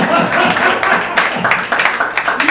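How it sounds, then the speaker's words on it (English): An audience claps in a dense, steady wash of applause for an in-law at a gathering, continuing evenly throughout with no voices on top. "can you clap for my in-law?"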